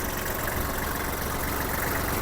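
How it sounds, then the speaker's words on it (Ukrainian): A Kubota GL-29 mini tractor with its 1500 cc D1503 diesel engine idles steadily nearby, a constant, even drone with no pauses and no voices. "Двигун тут з маркуванням D1503 з робочим об'ємом 1500 см кубічних."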